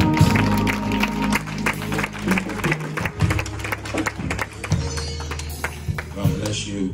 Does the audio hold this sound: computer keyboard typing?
no